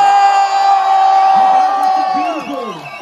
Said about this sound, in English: A big round of applause for them once again!